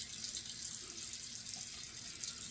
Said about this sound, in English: I'm turning on my warm water here